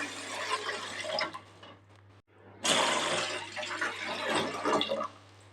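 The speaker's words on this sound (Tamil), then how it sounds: "அதில் 5 கப்பு தண்ணி ஊற்றிக்கலாங்க." Five cups of water pour into a heavy-bottomed pot on a stove while pearl millet porridge is being made: a steady, close rushing splash in two pours separated by a short pause, with no talk.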